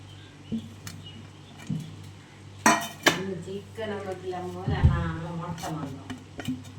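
Chicken pieces are being mixed with pepper in a bowl for a Christmas meal, with several sharp clinks and clatters of a utensil against the dish and softer scraping in between, while people talk nearby.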